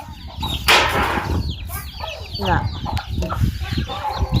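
Several chickens cluck and squawk close by in a farmyard, with irregular clucks, a brief flurry of wings and someone speaking in between.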